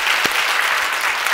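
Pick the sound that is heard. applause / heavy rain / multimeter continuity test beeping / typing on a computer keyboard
applause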